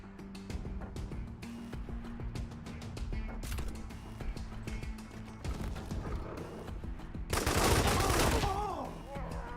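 Gunfire in the turn-based game Wasteland 3, including a shotgun blast, as a cluster of sharp reports and impacts over game music, ending in a louder burst of crashing noise.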